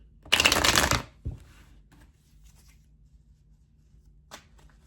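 Tarot cards riffle-shuffled in one loud, dense burst lasting under a second, followed by a soft tap and a few faint handling rustles in a quiet room.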